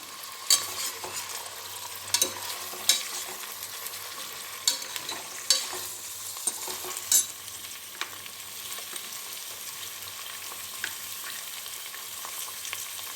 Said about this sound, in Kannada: ತರಕಾರಿ ಬಟಾಣಿ ಮತ್ತು ಈರುಳ್ಳಿ ಎಲ್ಲ ಚೆನ್ನಾಗಿ ಮಿಕ್ಸ್ ಆಗಬೇಕು